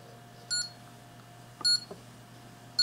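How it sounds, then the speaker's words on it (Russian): A Chinese power supply tester gives short electronic beeps, three sharp, high tones spaced about a second apart, close and clear over a faint steady hum. "Вот слышим, что он пищит."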